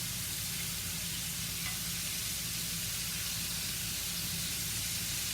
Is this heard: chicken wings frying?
yes